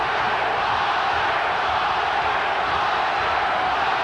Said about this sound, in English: Crowd chanting, Oscar, Oscar,